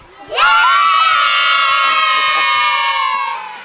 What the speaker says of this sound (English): Can we have a cheer for that?